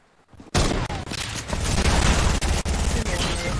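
Rapid gunfire erupts suddenly in a duo-squad shooter video game and rattles on loud and continuous for about three seconds, with brief gaps between bursts.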